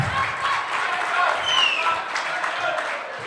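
Studio audience applause welcoming a guest onto a talk show, a steady dense patter of clapping sustained throughout at moderate distance with no voices on top.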